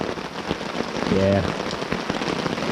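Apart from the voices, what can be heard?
heavy rain falling on car while camping in woods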